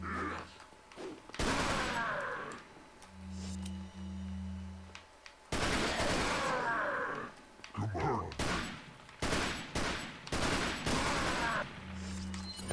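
Bursts of TMP submachine gun fire in Resident Evil 4, several loud rapid volleys separated by pauses, with a low humming tone between them.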